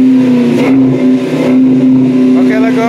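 A Dodge Magnum R/T project car's engine idles and revs loudly up close, its steady drone rising and falling in a few surges while people talk nearby.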